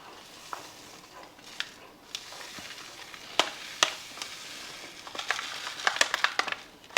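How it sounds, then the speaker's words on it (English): A whisk scrapes and clinks in a pot as grits are stirred into boiling water, with irregular sharp metallic taps and splashy swishes that grow busier toward the end, close by and with no talking. "add the grits to the boiling water and then just whisk it in to make sure you don't have any clumps"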